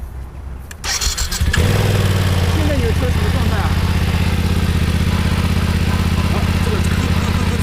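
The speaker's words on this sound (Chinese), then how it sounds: "造成发动机异响有可能是发动机内部零配件不够润滑摩擦导致的声音" A BMW motorcycle at a dealer service lot starts with a sharp crank, then settles into a loud, steady idle with an abnormal knocking noise running through the engine note, while people talk nearby.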